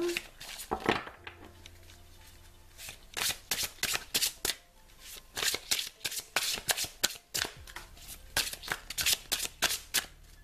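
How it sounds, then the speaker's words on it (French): A deck of cards being shuffled by hand in a quiet room: a quick run of crisp riffling bursts and soft taps, repeated in rhythmic waves, close and clear with no talk. "pendant que je bats le jeu"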